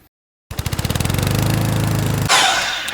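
A power saw cuts a board of wood, 2 1/4 inches wide and 1 3/8 inches thick, down to about 2 1/2 inches, starting after a short silence with a loud pulsing motor drone. A sharp burst of cutting noise follows near the end.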